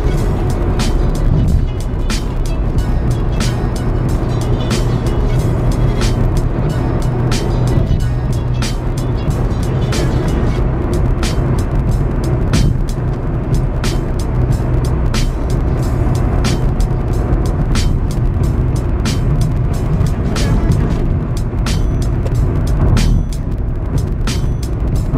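Inside a car cruising at a steady 100 km/h, a constant deep road and tyre roar fills the cabin, with light repeated ticks over the even drone and no talking.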